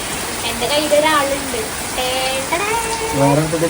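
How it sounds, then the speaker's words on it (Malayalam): Steady, dense rain hiss fills the background while people talk over it, their voices rising and falling throughout. "നല്ല മഴയാണ് നല്ല മഴ"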